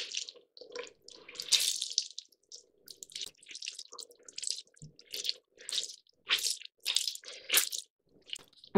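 A makeup sponge, a Beauty Blender, is squeezed and rinsed under a running tap, giving intermittent splashy water bursts with soft squishing between them, close by and without talk.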